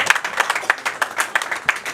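Audience at an association president's installation ceremony in Morocco applauding, a dense round of hand clapping from a crowd heard close and steady throughout.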